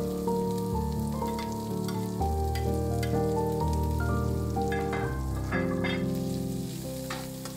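Shrimp paste fries in a pan with a steady, close sizzle and crackle, occasional stirring scrapes, over a backdrop of soft melodic music.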